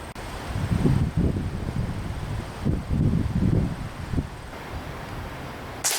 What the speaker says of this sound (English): it's an extremely windy day today